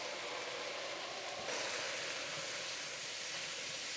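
Pre-cooked ground beef and chili seasoning sautéing together in a pot, a faint continuous hiss of steam and sizzle that swells slightly partway through, with no voices.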